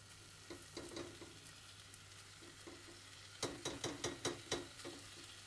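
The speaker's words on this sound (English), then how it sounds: "Okay, I'll give my pan a little stir." Clams being stirred in a frying pan for spicy clam soba noodles, with a low steady sizzle and a quick run of scraping, clattering stirs near the end.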